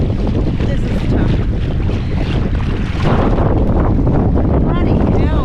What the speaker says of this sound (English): This wind, I can hardly.